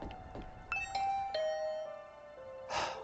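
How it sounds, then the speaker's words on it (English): A doorbell in the video game The Hundred Line: Last Defense Academy chimes in a few clean, ringing tones that fade out; the sound is faint and stands alone, with a brief noisy burst at the end. "I rang the doorbell and could hear the bell ring on the other side of the door."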